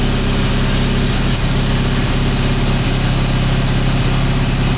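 A Mazda RX7 FC3S rotary engine with a BNR hybrid turbo runs steadily at a loud, close idle, with a dense continuous drone and faint rattly pulsing, no voices over it.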